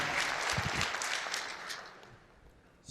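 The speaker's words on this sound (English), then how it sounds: "A round of applause to them." Audience applause at a business conference, a steady, fairly quiet wash of clapping from a crowd that gradually thins out toward the end.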